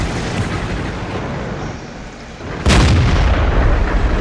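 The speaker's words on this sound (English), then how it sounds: "Ooh, that was another arty shot." A single loud artillery shot booms in the World of Tanks video game, a sharp blast that lands after a steady rumble of engine and battle noise and then holds as a heavy, wide roar.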